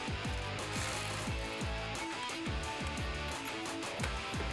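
Hand ratchet clicking rapidly in a steady rhythm while tightening the positive battery terminal nut on a 2019-2021 Chevrolet Silverado 1500, close and crisp with repeated short strokes.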